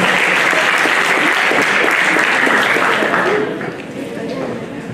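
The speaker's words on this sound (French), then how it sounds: "Applaudissez s'il vous plaît." Loud applause from an audience at a live children's Haitian quiz challenge in Paris, steady broadband clapping that fades somewhat near the end as voices come through underneath.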